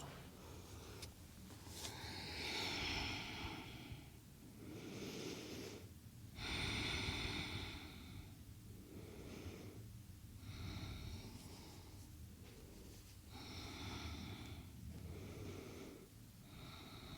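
Slow, deep meditative breathing, with long audible inhales and exhales repeating in a steady rhythm of a few seconds each, close and soft, with no speech.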